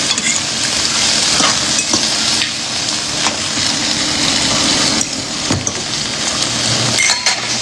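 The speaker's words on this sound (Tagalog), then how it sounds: "So, lagyan na natin yung garlic." Garlic frying in oil, a steady close sizzle running the whole time with occasional scrapes and stirs of a utensil in the pan, no talking.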